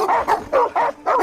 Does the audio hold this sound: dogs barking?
yes